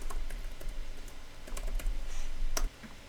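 Computer keyboard keys tapped in a short irregular run while a file is renamed, crisp close clicks spaced unevenly, ending with a slightly firmer final keystroke.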